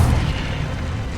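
Incendio, the fire spell in the Hogwarts Legacy game, erupts as a loud, deep whooshing roar of flame that booms at the start and rumbles on steadily for about a second, with no voices.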